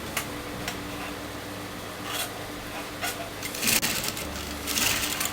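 A sewing machine stitches a bow onto frock fabric with fast, even mechanical whirring in short runs, plus a few handling clicks and rustles nearby.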